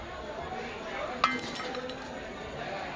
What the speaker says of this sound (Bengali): বালির মধ্যে একটা স্ট্যান্ড দিয়ে দেব।